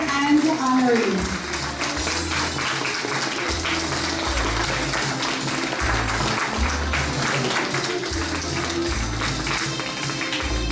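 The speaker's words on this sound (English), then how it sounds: "a round of applause for this evening's dignitaries and honorees" An evening event audience applauds dignitaries and honorees with a sustained wash of clapping that runs the whole time, mixed with music and a speaking voice.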